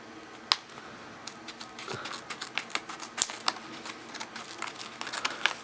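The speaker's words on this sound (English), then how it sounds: "Handy dandy scissors to cut this open" Scissors snip and crinkle through Lego Hero Factory toy packaging up close, a quick run of sharp cuts and rustling plastic with no talk.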